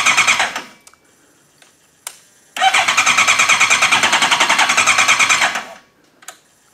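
A Suzuki Bandit 1250 motorcycle, idle for four years, cranks without firing: a short whir, then a steady rhythmic chugging of the starter for about three seconds that stops abruptly, with a few clicks around it.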